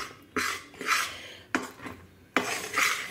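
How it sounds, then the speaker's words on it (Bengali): A spoon stirs cardamom-spiced jaggery melting in a pan for coconut sweets, with three bursts of scraping and clinking against the metal separated by brief quiet gaps, close and moderately loud. "একটু নেড়ে দিই।"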